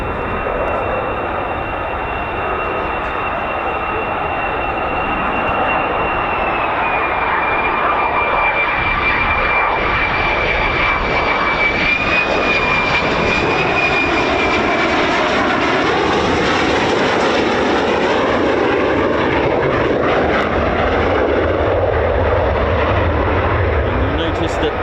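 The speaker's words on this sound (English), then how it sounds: "Land on their rear landing gear. The noses, even when they're flying, you'll notice the angle of attack, the nose is always pointing upwards" F-15 or F-35 fighter jet landing at RAF Lakenheath, a loud, sustained engine roar with a falling whine that swells as the aircraft passes close, while someone talks over it throughout.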